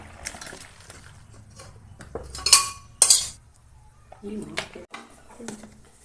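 A utensil stirring a pot of Malabar spinach curry with prawns and fish, producing a few sharp metallic clinks and scrapes against the pot between quieter moments, with someone talking over it.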